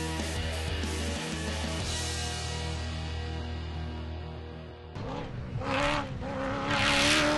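Nissan Navara V8 race car built by Regent Racing, its engine droning loud and steady with harmonic layers, then shifting abruptly into a rougher, rising roar with apparent tire noise near the end; no talking.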